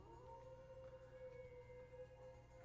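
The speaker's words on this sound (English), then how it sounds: "That sound like wolf howling" A wolf howls in the video game Trails through Daybreak, a long, sustained tonal wail held steady over a low ambient hum, faint and distant, with no one speaking.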